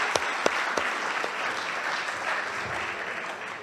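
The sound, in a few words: audience applause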